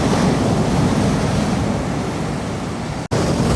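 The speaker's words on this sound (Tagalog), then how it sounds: "Ang lakas kasi ng alon" Strong sea waves crash on the shore in a steady, roaring wash of surf, heavy with wind buffeting the microphone and no voices.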